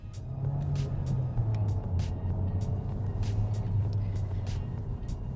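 A 2023 Skoda Octavia Sportline with a 1.5L TSI engine cruises along, its steady low engine hum and road noise continuous and moderately loud throughout, with no talking.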